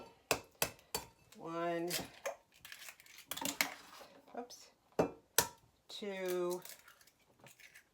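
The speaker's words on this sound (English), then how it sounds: "I'm going to crack them all into the milk" Eggs crack against a bowl of milk for a potato and mushroom quiche, making several sharp, close taps spaced apart while a voice counts between them.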